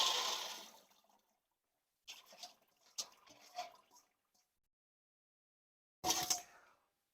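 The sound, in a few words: water poured through a colander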